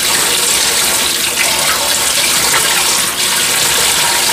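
Water pouring steadily from a tap while rice is rinsed for Jamaican rice and peas, a loud continuous splashing gush filling the whole stretch with no voices.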